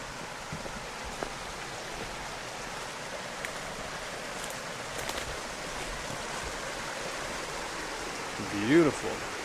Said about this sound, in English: Check out the creek this morning.